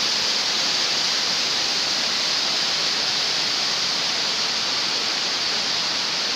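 A clear mountain stream rushes over rocks in a stony highland valley, a steady, dense, unbroken hiss of flowing water close by.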